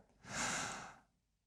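A group of choir singers draws in a breath together before starting to sing, a soft, airy inhalation that swells and fades over about a second, with no voices.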